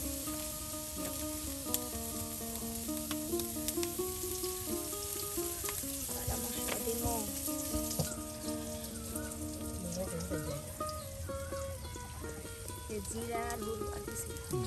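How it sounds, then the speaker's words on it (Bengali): Onions fry in oil outdoors by a riverside village kitchen, a continuous sizzling hiss with crackles beneath steady tonal background sound and faint voices. "এই যে দেখুন পেঁয়াজগুলো কিন্তু একদম এই যে তেলে একদম ভেজে নেওয়া হচ্ছে।"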